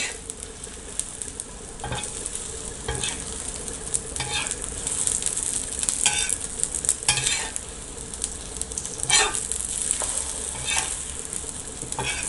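Egg kalakki frying in a hot pan and being stirred continuously, a steady loud sizzle with repeated scraping strokes of a spatula at an irregular rhythm, close up and without talk.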